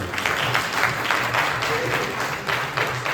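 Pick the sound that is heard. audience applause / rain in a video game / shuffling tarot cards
audience applause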